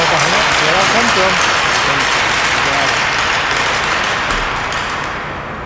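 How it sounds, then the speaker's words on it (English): Cheering and applause from an Ottawa Senators women's hockey crowd at a rink, a dense, steady wash of clapping and voices that holds loud throughout and eases slightly at the end. "This is the Ottawa Senators women's hockey cheering for them"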